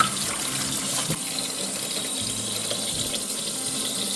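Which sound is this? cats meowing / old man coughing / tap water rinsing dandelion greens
tap water rinsing dandelion greens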